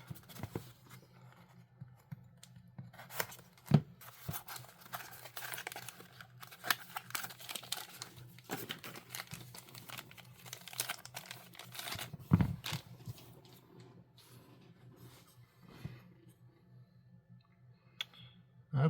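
A black folding knife being unboxed, with soft crinkling of packaging, small clicks and handling noises, scattered and faint, close by with no voices.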